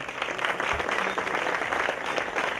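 An audience applauds as a guest, Félix Sitounadin, is introduced at an event honouring him, a steady, moderately distant wash of clapping sustained evenly throughout with no speech over it.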